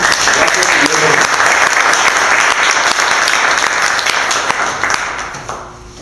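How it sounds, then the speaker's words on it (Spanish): A Masonic lodge audience gives loud, close applause, a dense crackle of many hands that carries on strongly and then fades out near the end, with some voices mixed in. "Démosle un fuerte aplauso para que inicie su exposición"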